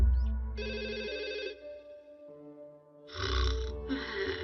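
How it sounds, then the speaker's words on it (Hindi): An electronic phone ringtone in a Hindi-dubbed Doraemon cartoon plays in repeated bursts, a tonal melodic ring with brief pauses, fairly close and clear, no voices. "नोबिता, तुम्हारा फोन है। सुनियो का फोन आया है।"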